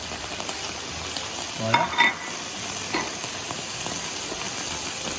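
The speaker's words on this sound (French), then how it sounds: "Et on va laisser cuire doucement ces champignons qui vont nous faire la sauce." Mushrooms sizzling in a pan give a steady, moderate frying hiss with a few stirring scrapes and clinks partway through. A brief word is spoken near the end.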